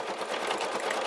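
Brother SE1900 embroidery machine stitching an Easter basket design, a dense, steady rapid whir of needle strokes, close and continuous.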